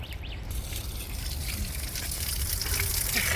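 A drinking-water tap in a botanical garden runs steadily, a constant close hiss of flowing water with no voices over it.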